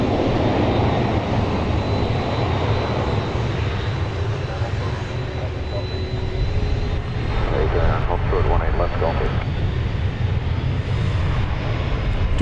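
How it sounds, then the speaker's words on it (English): A Delta Airbus A321 from Atlanta comes in to land at DFW Airport, its engines a loud, steady roar throughout with a brief fluttering rise near the end; a voice speaks faintly under the noise. "Those Delta Flight 839 from Atlanta and Airbus A321 coming in"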